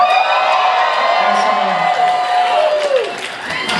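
A concert crowd at the Williamsburg Music Hall screams, whoops and cheers loudly and continuously, a dense roar of many voices close around.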